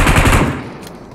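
Rapid burst of sniper gunfire in the BGMI battle royale game, loud and close for a split second before the report fades into a thinner tail.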